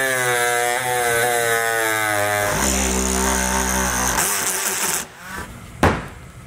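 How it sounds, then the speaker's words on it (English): A cutoff wheel grinds a notch into the front of a vehicle for a hitch receiver, a loud steady high-pitched whine with shifting tone as it bites the metal, then spinning down near the end. "we're going to go ahead and just use a cutoff wheel here to cut it out"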